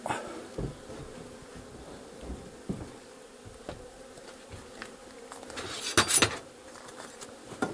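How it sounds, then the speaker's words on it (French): A steady low insect buzz from many honeybees crowding a weak colony in a Warré hive, fairly quiet and continuous, with a few soft knocks and a brief brighter rustle near the end. "la ruche est bondée d'abeilles"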